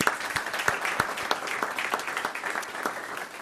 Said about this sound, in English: I'd like to at least give her some applause.